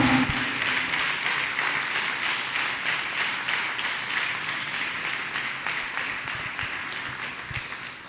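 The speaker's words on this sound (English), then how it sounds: "Let us clap hands for Master Jesus, people of God." A church congregation claps their hands together during a service, producing a dense, steady wash of applause that carries on throughout, fairly loud and without speech over it.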